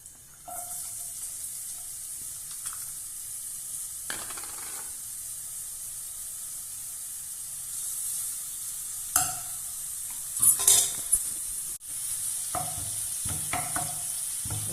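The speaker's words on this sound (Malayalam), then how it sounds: "ചെറുതായി അരിഞ്ഞ് മുറിച്ച് ഉള്ളി ഇട്ട് കൊടുത്തിട്ടുണ്ട്." Chopped onions frying in hot coconut oil for a Kannur-style beef varattiyath, giving a steady, close sizzle throughout with a few brief scraping stirs near the end and no talking.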